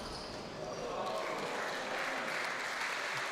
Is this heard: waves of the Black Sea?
no